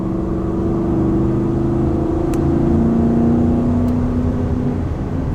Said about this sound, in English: So now I'm pulling out onto the highway, and I'll let you hear the V8 a little bit